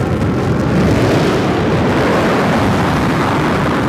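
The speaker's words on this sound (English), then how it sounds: "Engine restart." The BE-3 rocket engine on a Blue Origin New Shepard booster restarts during landing, a loud, continuous, broadband roar that holds steady throughout.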